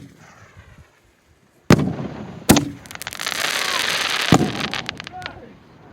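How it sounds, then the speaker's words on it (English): Strobe fireworks crackle and pop in a sharp burst of loud bangs followed by a sustained shimmering crackle, at an outdoor display in Goldfield, Nevada. "you can hear the strobe"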